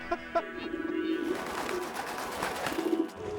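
Pigeons coo close by in low, rolling, repeated calls, with a few light clicks and flutters around them in an otherwise quiet outdoor setting.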